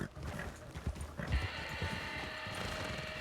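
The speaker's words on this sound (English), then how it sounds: "Watch your horses' steps over here, okay?" Horses' hooves clip-clop at a walking pace on a path, a few irregular nearby thuds over an outdoor hum of voices and ambient noise.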